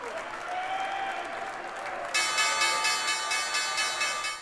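A trading-floor crowd cheers and applauds at the stock market's closing bell, a steady roar of clapping that a ringing bell joins partway through, its tone sustaining loudly over the noise to the end.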